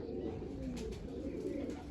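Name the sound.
pigeons cooing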